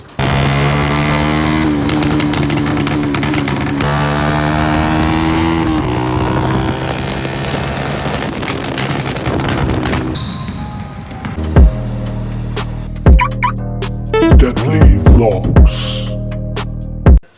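A Honda CG 125 motorcycle with a burst silencer revs loudly and continuously, then drops to a rough idle punctuated by sharp, loud exhaust backfire pops in irregular bursts.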